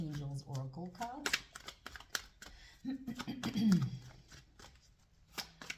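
Romance Angels oracle cards being shuffled, with quick papery riffles and soft flicks sounding close, while someone talks over much of the handling.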